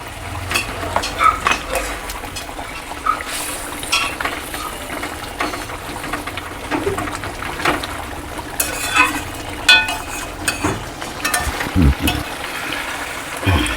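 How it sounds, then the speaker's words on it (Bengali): Katla fish pieces go into a boiling curd gravy in a pan, bringing a busy mix of sizzling, bubbling, stirring and utensil clatter, close and fairly loud. "এবার মাছগুলো দিয়ে দেব।"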